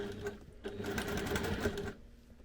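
A sewing machine stitching the flap of a handmade case, running in one close, steady whirring burst of stitches that stops abruptly near the end.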